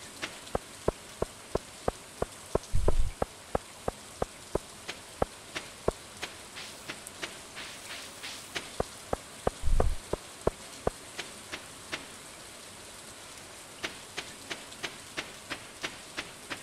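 Rain patters steadily in Stardew Valley Expanded, with a soft hiss under sharp, regularly spaced ticking drops and two brief low thuds.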